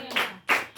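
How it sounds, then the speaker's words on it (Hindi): A church congregation claps to give thanks to God during a Hindi Christian worship service, with two quick, loud bursts of clapping close by and a short pause between them. "ताली बजा के परमेश्वर को धन्यवाद देंगे।"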